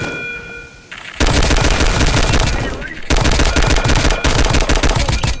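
Rapid automatic gunfire from an MP47 in a Roblox airport-defense game rattles out in two long, loud bursts, preceded by a brief quieter moment with faint tones.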